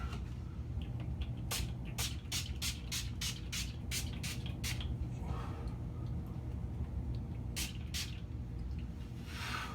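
Final Seal makeup setting spray is pumped during horror clown makeup application, a rapid series of about ten short, sharp spritzes followed later by two more, close up over a quiet room.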